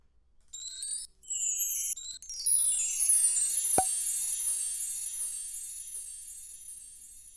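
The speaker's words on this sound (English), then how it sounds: "I specifically want some chimes." Bright, ringing metallic chime samples in Ableton Live 10, a few separate strikes early on, then a shimmering struck chime that rings out and slowly decays.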